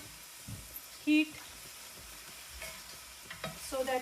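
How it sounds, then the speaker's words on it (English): Vegetables stir-fry in a skillet over high heat, a soft sizzle with scraping and tossing clatter, plus a brief sharp utensil clink, while faint voices and background sound run beneath. "the trick is to keep stir frying it on high heat"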